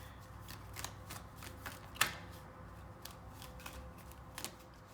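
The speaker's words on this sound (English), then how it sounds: "You guys have a lot of cards just flipping over." Tarot cards riffle and flip in quick, soft papery bursts, with one sharper snap partway through, close up and fairly quiet with no talking.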